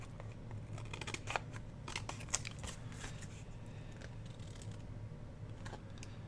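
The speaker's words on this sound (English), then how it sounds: "Now let's trim around this piece." Scissors trim around a scrap of paper from junk mail envelopes, making a run of quiet, close, crisp snips in irregular bursts over a low room hum, with no talking.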